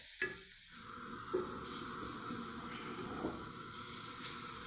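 Spices tempering in a small amount of oil with asafoetida, a close, quiet steady sizzle with faint stirring scrapes and a few soft clinks.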